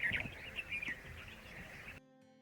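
Birds in Panna Tiger Reserve giving a few quick high chirps and short calls against faint outdoor background, before the sound cuts out.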